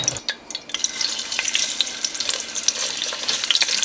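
Onions frying in hot oil in a pan, with a dense, close sizzle peppered with sharp pops and crackles throughout, no voices.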